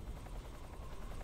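Helicopter in Metal Gear Solid 3: Snake Eater, a faint, steady low rotor drone with a soft rhythmic chop, heard alone at a distance.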